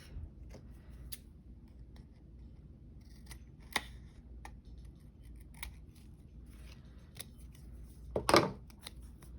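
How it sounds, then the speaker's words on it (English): Scissors snipping through tape during paper crafting, a few faint scattered clicks over quiet room noise, then a louder close crunching cut near the end. "I'm gonna cut that off."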